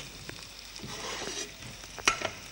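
Butter browning in a hot pan over high heat, cooking for a fresh Landes duck foie gras dish: a steady close sizzle with soft scraping and stirring, then a couple of sharper clinks near the end. No one speaks.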